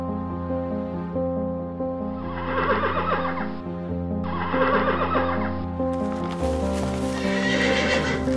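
A cartoon horse neighs in loud whinnies while hooves clip-clop steadily beneath, all set over a continuous musical score.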